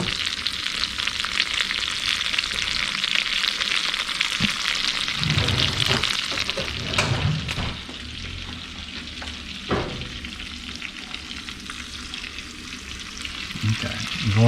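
A tomahawk ribeye basting in a hot cast iron skillet, loud continuous sizzle and spatter with scraping stir sounds and occasional knocks, easing slightly in intensity partway through.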